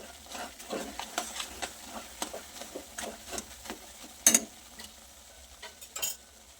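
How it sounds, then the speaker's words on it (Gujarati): Adadiya mixture with mava and edible gum is stirred in a pan after the gas flame is turned off, giving close, irregular scraping and clinking strokes with no talking. "હવે આપણે આમાં માવો ઉમેરી દઈશું અને ગુંદર ઉમેરી દઈશું. ગેસની ફ્લેમને ઓફ કરી દઈશું. બધું સરસ મિક્સ કરી લઈએ."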